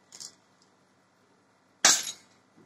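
A target shattering when hit by a plastic BB from a GL17 airsoft pistol: a faint snap early on, a quiet gap, then one loud sharp crack with a brief glassy break and quick decay.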